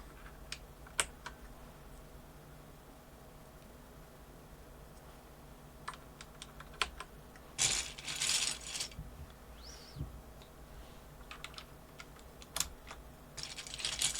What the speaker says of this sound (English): now I'm putting in the keys now